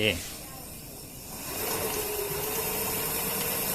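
An electric bicycle motor powered by a 48V 12Ah lithium battery spins up when the throttle is turned to speed three, giving a steady, moderately loud whine that starts partway through and holds evenly to the end.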